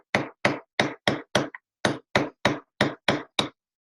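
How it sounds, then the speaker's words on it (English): A hammer strikes a chasing chisel held at an angle on metal in repoussé work, giving eleven sharp, close, evenly spaced taps with a brief pause midway. "we're doing about a 45-degree angle so that the chisel naturally moves as we're hitting"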